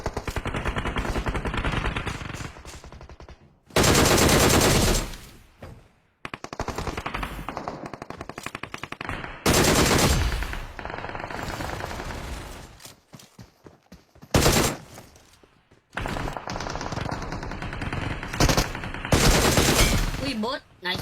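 Sustained automatic gunfire from a red gun in a video game plays in long loud bursts of rapid shots with brief pauses between them.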